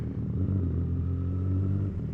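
A CFMOTO 675 SR-R sport motorcycle with a loud aftermarket-style exhaust and quick shifter, heard as a steady, close, deep engine drone with a slight rise and dip in revs, no talking.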